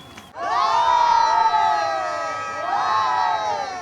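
A crowd in the sun cheers and whoops as sailors Clarisse Crémer and Yannick Bestaven arrive, with loud sustained high-pitched shouts from many voices that swell, dip slightly and rise again.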